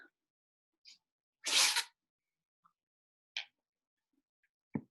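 A single sharp human sneeze bursts out in a quiet room, loud and close, with a few faint clicks and small noises scattered before and after it.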